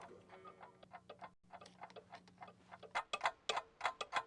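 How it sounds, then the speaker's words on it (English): Authentic Black Forest cuckoo clocks in the Gabriel Knight II game tick steadily in overlapping rhythms, quiet at first and then louder and sharper near the end, with no talking. "Authentic Black Forest cuckoo clocks."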